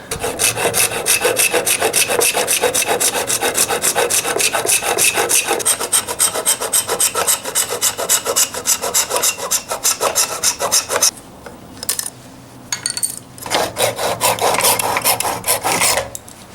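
A wooden Japanese kanna hand plane, under repair with an ebony butterfly spline inlay, has excess glue scraped and rubbed off in rapid, steady, loud rasping strokes up close, pausing briefly near the end before resuming.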